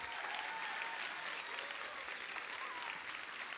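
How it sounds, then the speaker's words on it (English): Sustained audience applause at the Englert theater concert, a dense even wash of clapping heard from within the crowd, steady and fairly soft throughout. "I'd like to give a huge round of applause to everyone at the Englert who really made this happen"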